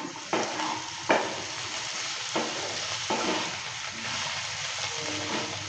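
Potato and bitter gourd frying in a pan with grated coconut, a continuous sizzle broken by a few sharp scrapes as the pieces are stirred, close and without talk.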